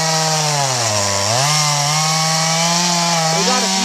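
A Stihl MS211 chainsaw cutting wood screams loudly and close, its engine pitch dipping under load then rising again as the chain bites and frees, sustained without pause and with no voices.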